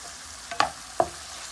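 Chicken cooking in a pan on a stove, with a steady soft sizzle and two brief louder clatters of stirring.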